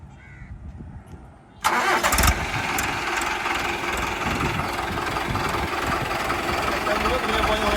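Quiet background with voices, then a heavy 4x4 tractor engine cranks and roars to life, settling into a loud, steady rumbling idle close by.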